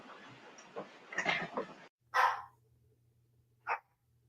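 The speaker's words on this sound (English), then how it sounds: "I apologize for my dog." A dog barks a few times indoors, a couple of sharp barks after a stretch of muffled background activity, with pauses between them.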